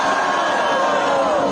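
Crowd cheering and whooping at an outdoor protest rally in the rain, a dense, continuous roar of many voices held steady and loud throughout.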